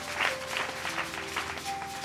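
A church congregation clapping during a worship service, steady moderate applause filling the short moment.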